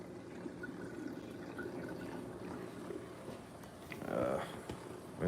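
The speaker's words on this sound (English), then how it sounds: "It's about the same amount of water coming out." Water flows steadily out in a reef aquarium setting, a soft continuous trickle and splash at low level that swells briefly louder near the end.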